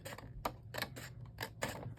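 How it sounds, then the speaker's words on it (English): Scissors snip through paper during a cottage-themed ephemera craft: a quick run of five or six close, crisp cuts in an uneven rhythm, faint and with no voices. "Cut this out."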